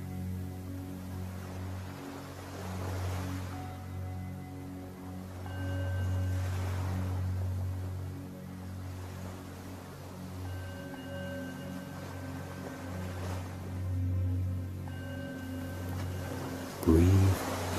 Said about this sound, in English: Allow the sound of the waves to calm your mind.